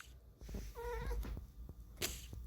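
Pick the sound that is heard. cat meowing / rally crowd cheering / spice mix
cat meowing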